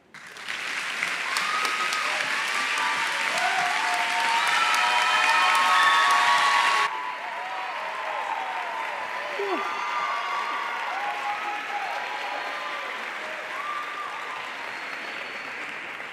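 A graduation commencement audience breaks into loud, sustained applause mixed with cheering and shouts. It swells for several seconds, then drops to a softer but steady ovation that carries on to the end.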